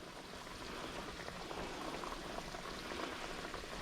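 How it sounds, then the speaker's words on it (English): Three cups chicken sauce bubbling in a pot on the stove, a steady close hiss of popping bubbles with no voices. "now we're bringing that to a boil"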